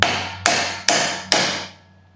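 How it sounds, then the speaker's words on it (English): Four sharp metal hammer blows strike the outside of a Jeep's ball joint casting during front-end repair, evenly spaced and ringing out with decaying tails, loud and close with no talking. "hit the outside of the casting with a hammer trick"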